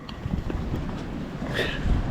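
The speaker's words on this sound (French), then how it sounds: "On a depuis ce matin entre 15 et 25 nœuds de vent" Strong mistral gusting at 15 to 25 knots across a sailboat under grey skies, a steady rushing roar buffeting the microphone close up, with faint creaks and a brief higher whine midway.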